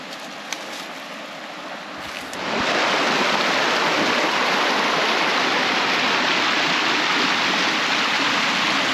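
A river rushes over rocks in a wooded lot. After a quieter opening it swells into a loud, continuous wash of water that sounds close by.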